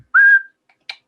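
A person whistles one steady, clear sustained note, close and alone, followed after a short pause by a brief sharp click.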